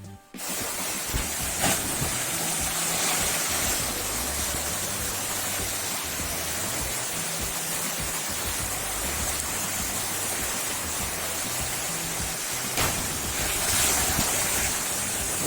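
A steady, loud rushing roar of falling water at Aşıklar Waterfall in Dikili, Turkey, continuous from start to finish with no voices.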